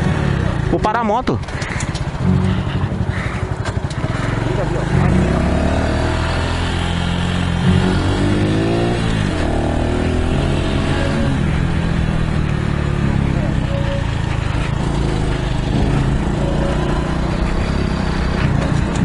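A motorcycle engine idles and revs close by while riders chase a large kite through a neighborhood, with people talking over the steady motor hum throughout.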